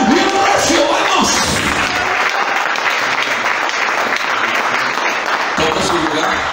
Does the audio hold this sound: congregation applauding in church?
yes